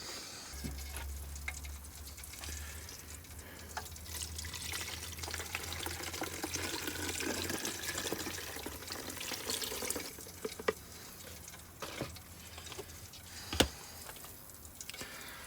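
Water is poured into a handmade leather canteen, a long trickling, gurgling flow with faint splashes, a low hum early on and a few sharp knocks and clicks near the end.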